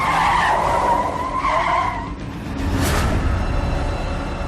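A car skids hard to a sudden stop, with a loud, sustained tire screech and road noise lasting a few seconds, heard up close and with no voices.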